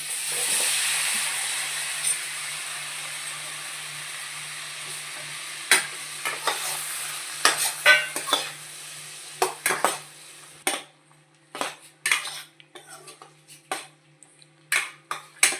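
Butter sizzles in a pan for paneer butter masala, a steady hiss that fades as a spoon stirs and taps, ending in a run of sharp, irregular clanks against the pan.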